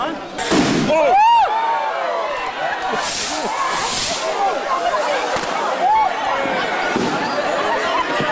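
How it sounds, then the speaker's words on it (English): Fireworks crackle and pop at a New Year celebration in Gambia, with whistling rockets and bursts over a busy crowd noise, near and loud, while people talk. "But just try and cut down the fireworks so that the music can play."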